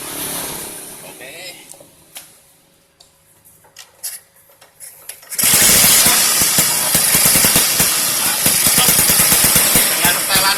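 An old motorcycle engine with freshly adjusted ignition points starts up after some quiet ticking and handling, then runs loud and steady with a rapid throbbing idle at close range.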